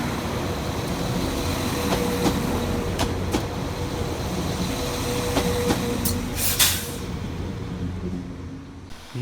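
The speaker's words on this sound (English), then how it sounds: "Whilst arriving in the opposite direction is 197125, working the 1608 Transport for Wales service from Maesteg through to Cheltenham Spa." A Transport for Wales Class 197 diesel unit pulls into Cardiff Central station, a steady rumble of engine and wheels on rails with several clanks and a short hiss of air, heard at moderate distance.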